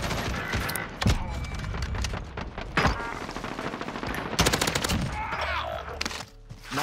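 Dense automatic gunfire in the shooter game Modern Warfare Warzone rattles almost nonstop in loud, close bursts, with faint game sounds and brief voices underneath.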